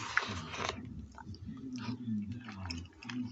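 Close, quiet chewing of a bite of Hungry-Man Salisbury steak with mashed potatoes and gravy, soft wet mastication with a few small bites over a few seconds, heard alone.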